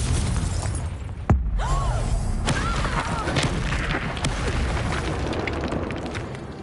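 Spell explosions from Bombarda and Confringo in the Hogwarts Legacy video game: a sharp blast followed by rumbling, crackling debris and magical swooshes, loud and dense, with no talk over it.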